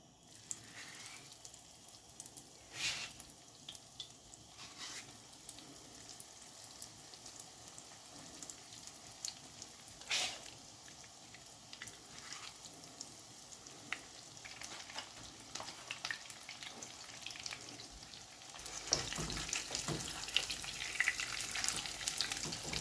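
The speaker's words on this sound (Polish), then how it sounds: "Smażymy na średniej mocy palnika około 3 minut na stronę." Steady frying sizzle of panko-breaded chicken cutlets in oil over medium heat, a soft continuous crackle with occasional louder pops, growing a bit brighter toward the end, no voices.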